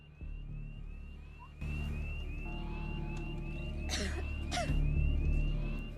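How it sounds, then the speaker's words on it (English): A blaring alarm from the video game Alien: Isolation repeats short, regular electronic chirps over a low rumble, with a couple of sharp bursts near the end; nobody speaks. "Do you think they'd ever try to turn the alarm off?"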